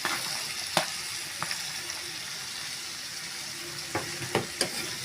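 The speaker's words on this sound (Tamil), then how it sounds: "நம்ம கட் பண்ண அவரைக்காயை சேர்த்துடலாம்." Cut broad beans sizzle softly in a pan with spices, a faint steady frying hiss broken by a few sharp clinks and scrapes of stirring.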